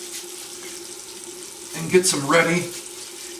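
Warm water runs from a bathroom tap into a sink in a brief splashing burst that rises and falls over about a second, with someone talking over it.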